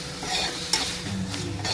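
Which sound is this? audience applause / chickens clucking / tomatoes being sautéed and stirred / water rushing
tomatoes being sautéed and stirred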